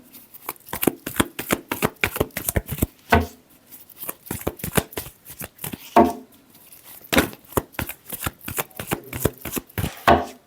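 A tarot deck being shuffled by hand, rapid bursts of crisp card riffles and slaps in quick repeated runs with short pauses between, close and clear with no talk.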